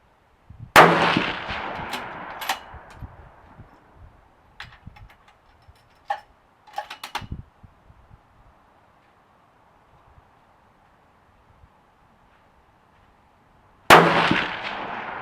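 Two rifle shots ring out while a DNT 7-35 scope is being zeroed at a range: a loud sharp crack near the start and another near the end, with quiet pauses and a few faint clicks and knocks between them.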